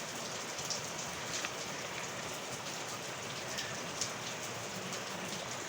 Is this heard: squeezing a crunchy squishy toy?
no